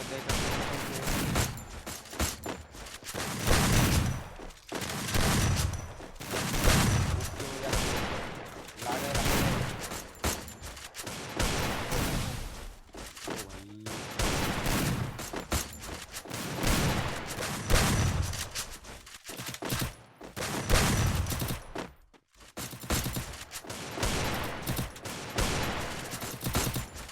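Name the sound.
gunfire in shooting video game headshot match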